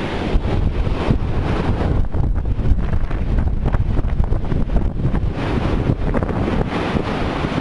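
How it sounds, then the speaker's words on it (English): Roaring surf and strong wind on Pompano Beach, Florida, at high tide during Hurricane Sandy, a loud continuous rumble with heavy wind buffeting the microphone. "The waves have been pushing up through these little channels along the beach"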